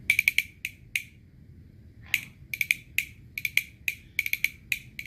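Cow leg bones clack together as percussion in quick bursts of bright, hard clicks, some single and some in rapid triple flurries, close and crisp over low background hum.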